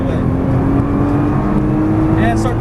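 Nissan GT-R accelerating at full throttle down a race track straightaway, a loud, steady engine drone heard from inside the car with a sustained tone throughout and a faint voice near the end.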